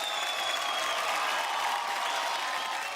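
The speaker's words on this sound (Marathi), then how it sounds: "पुन्हा एकदा जोरदार टाळ्या रिदम साईडला" Audience applause for the rhythm section at a Marathi singing competition, a steady, dense clapping wash that fills the whole moment without pause.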